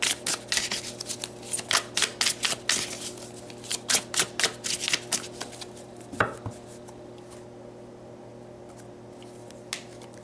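Tarot cards are shuffled and pulled in a quiet room, giving a run of close, crisp flicking and slapping bursts that thin out into a few isolated snaps and taps.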